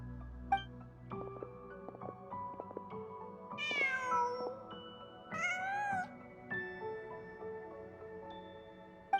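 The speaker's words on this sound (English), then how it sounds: "Just a cat." A cat meowing in Genshin Impact, several distinct rising meows spread across a quiet scene with soft musical tones underneath, fairly close and clear with no voices.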